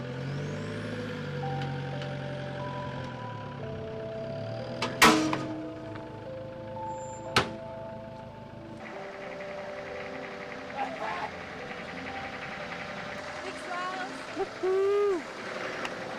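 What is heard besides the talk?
Toyota 60 series 4WD being pull-started by another vehicle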